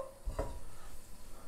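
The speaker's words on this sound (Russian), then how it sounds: "Чеснок мы не будем с масла убирать, а оставим прямо так. Будет все вместе жариться." Garlic frying in a little vegetable oil in a pan, a steady soft sizzle with a brief stirring scrape near the start, close and alone with no voices.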